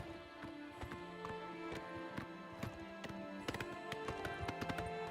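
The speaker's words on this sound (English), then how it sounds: "The horse is confused." Horse hooves clip-clop in a steady, moderately close rhythm while riding in the video game The Elder Scrolls IV: Oblivion Remaster, with tonal game music in the background and no talk.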